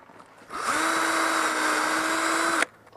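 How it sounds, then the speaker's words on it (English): A power drill pre-drilling a hole in cedar 2x8 boards whirs steadily for about two seconds, starting with a rising spin-up and cutting off abruptly, close and loud with no talking. "I'm gonna pre-drill a hole right here."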